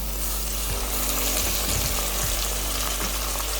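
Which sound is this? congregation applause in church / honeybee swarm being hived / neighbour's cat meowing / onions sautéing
onions sautéing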